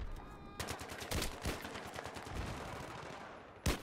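Multiplayer gunfire in Battlefield 3 cracks out as a rapid automatic burst of shots followed by a few separated single reports, sounding close and punchy, with one last sharp shot near the end.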